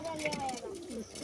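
A breeding pair of cappuccino pigeons coo in a soft, rolling call up close, with a person talking over them.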